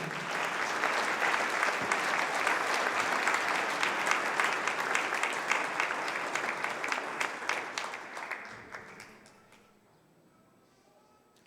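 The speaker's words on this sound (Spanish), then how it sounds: "Y dele un aplauso al Señor." A church congregation applauds for about eight seconds, a dense, steady wash of many hands clapping that thins out and fades into near quiet at the end.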